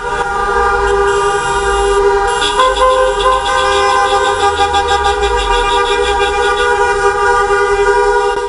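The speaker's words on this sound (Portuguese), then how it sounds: "O protesto virou também uma carreata com buzinaço e com a participação de cerca de 50 carros." Car horns blare continuously from a taxi drivers' protest motorcade of about 50 cars driving through downtown streets, several overlapping honks held loud and steady over the rumble of engines.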